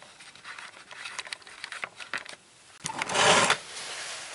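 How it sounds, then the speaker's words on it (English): A grease gun pumping grease into a ball joint zerk on a Ford Escape, giving a few quick mechanical clicks and squishes up close, ending in a louder, longer burst of hissing pump noise. "We'll just screw it in the bottom here, give it a couple shots of grease."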